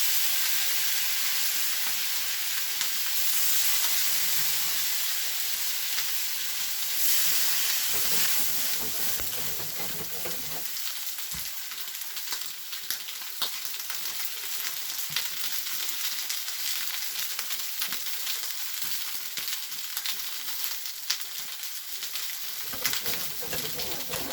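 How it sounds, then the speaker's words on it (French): Courgettes frying in butter in a pan, a dense bright sizzle that holds steady, with occasional stirring scrapes and the hiss thinning a little in the second half. "pour les courgettes, je mets du beurre. Je plonge mes courgettes ici."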